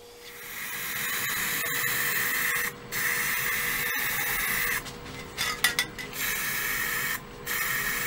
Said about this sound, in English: It is worth, if you want a very good finish, to do two coats of the ebonizing lacquer.